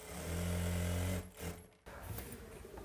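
A sewing machine stitches the edge of a cotton saree in a steady, loud run that stops about a second in, followed by fainter handling noise and a quieter restart.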